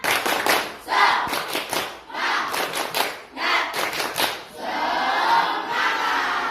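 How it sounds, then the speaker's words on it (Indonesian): Class of students in an Indonesian classroom doing a spirit clap, quick unison clapping patterns broken up by loud group chants and shouts, close and energetic, closing on a long collective cheer. "Tepuk semangatnya lagi, mana satu tepuk semangat?"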